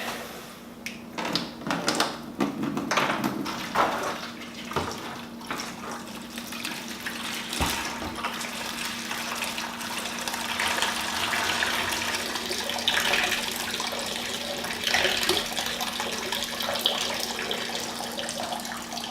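Water from a Follett ice maker's flush cycle pours steadily into a bucket, a continuous gushing and splashing stream with a faint hum beneath, with a few clanks early on.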